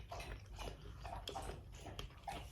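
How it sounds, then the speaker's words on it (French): Dogs drink water indoors, a steady run of close, wet lapping and slurping laps with short gaps, fairly loud and without talk. "On entend même les chiens qui sont en train de boire."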